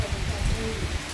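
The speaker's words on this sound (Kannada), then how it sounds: "ಮಳೆ ಬರ್ತಾ ಇದೆ" Steady rain pours down in the Malenadu countryside near a cattle shed, a dense continuous hiss with low rumbling underneath, and faint voices mixed into the wash.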